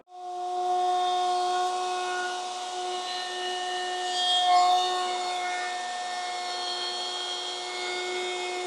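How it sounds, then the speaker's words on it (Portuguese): A machine planer works a wooden piece, producing a steady whining hum with strong tonal overtones. The motor holds for several seconds, and a brief rise in the middle suggests the cut of the wood. No voices are heard. "agora é só terminar de aplanar essa peça"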